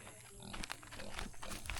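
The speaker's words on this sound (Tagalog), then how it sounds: "May baboy." A pig on a hillside farm in the Philippines grunts in low, rough bursts amid rustling and ambient noise, close by and fairly quiet over about two seconds.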